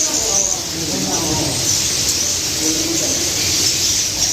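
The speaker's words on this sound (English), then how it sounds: "It's so many birds." A big flock of birds fills the air at a crowded bird's nest colony, with steady high chatter and calls over broadband rustle, and voices mixed in throughout.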